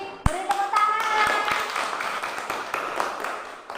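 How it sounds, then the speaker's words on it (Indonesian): Students in a classroom clap their hands, starting with a sharp lead clap and followed by a loose, uneven spatter of claps from nearby, with children's voices mixed in. "Beri tepuk tangan."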